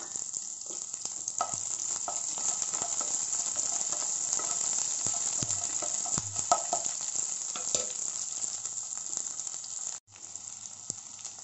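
Onions and green chillies fry in a pan with a steady, close sizzle, while stirring adds scrapes and clatters throughout and one brief dip near the end.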